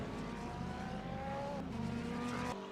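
Bentley GT3 race cars lapping the track at Portland International Raceway, a steady engine drone with shifting pitch, moderately near and continuous with no talk, cutting off abruptly at the end.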